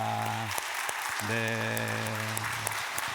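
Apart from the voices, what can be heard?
congregation applause in church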